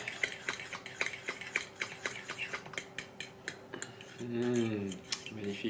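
A utensil clinks rhythmically against a bowl while oat bran, almond milk and egg whites are mixed, giving quick, close, regular taps, with a brief low hum near the end.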